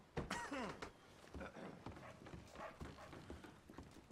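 Horse hooves clip-clop in the video game Red Dead Redemption 2, a quiet, uneven run of soft thuds with a brief whinny near the start, all faint and low in level.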